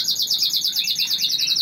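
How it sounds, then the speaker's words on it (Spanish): Pet songbirds raised by a breeder sing steadily, with clear, high, metallic trills repeating in a fast continuous stream, close and alone with no talk. "¿Cómo cantan? Escucha los pájaros."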